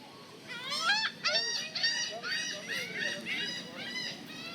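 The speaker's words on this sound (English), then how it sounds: "just some birds" Geese honk repeatedly at a theme park, a series of loud, close, nasal calls in quick succession over a busy background murmur.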